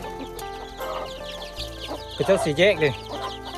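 Chickens cluck and squawk close by in a Hmong mountain village, with a loud run of clucks in the middle. Someone speaks over them.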